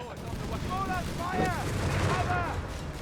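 Rifle fire from an infantry team in the video game Company of Heroes 3, several sharp shots and booming battle effects amid a dense combat soundscape, with faint background talk.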